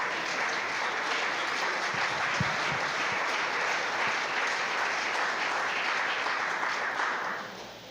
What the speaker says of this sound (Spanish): Fuerte ese aplauso para nuestro Señor.